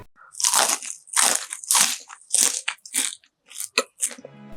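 Crisp, loud crunches from biting into fried cromboloni, an eggless pastry cooked in a nonstick pan with a crunchy shell and soft inside, about seven sharp bites in quick succession, close up with no talking.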